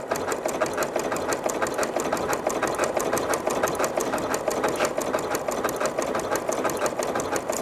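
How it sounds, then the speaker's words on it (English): A sewing machine runs steadily and loud as it stitches around the edge of a baby blanket, its needle chattering at a fast, even rhythm with no pauses and no voices. "So I'm just pivoting at the corners, and I'm going to stitch all the way around."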